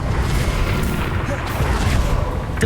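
The Bombarda explosion spell in the Hogwarts Legacy video game erupts as a loud, continuous rumbling blast with heavy low booms layered over crackling debris, filling the whole moment.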